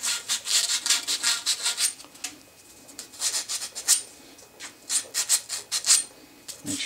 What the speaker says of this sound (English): we'll just clean up the end with some sandpaper.